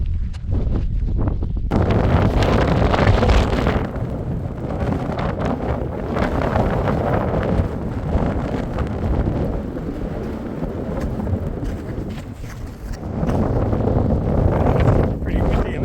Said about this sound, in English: Pretty windy in this area.